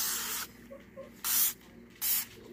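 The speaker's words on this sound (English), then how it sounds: "I'm spraying the spatula too because it has barbecue sauce on it." Dawn Powerwash dish spray is sprayed onto dishes and a spatula coated in barbecue sauce, in three short hissing bursts with brief quiet gaps between them, close up and with no talk.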